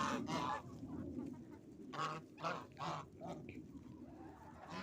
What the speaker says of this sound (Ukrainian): Є в нас молодих двоє гусей і троє молодих качок ходять іще на першому дворі.